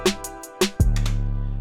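A minor chord played on a software synth in Studio One sounds in short staccato stabs, two quick hits, then a sustained chord with a low bass tone that pulses steadily, close and clean with no talk.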